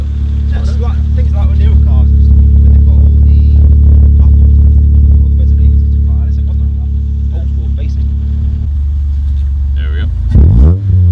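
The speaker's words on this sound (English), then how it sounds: "That's actually quite a nice, smooth cold start, isn't it?" A Toyota Starlet SR engine idles after a cold start, a loud, steady low chug that holds throughout, while someone talks over it near the end.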